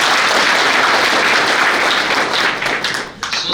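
A seminar hall full of students preparing for police sub-inspector exams breaks into loud, dense applause that stays strong, then tapers and breaks up in the final second.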